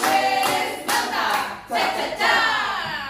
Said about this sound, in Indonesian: Tepuk apresiasi.